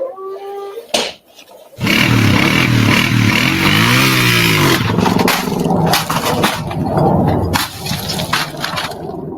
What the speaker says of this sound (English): the motorbike being just sort of revved off the little edge there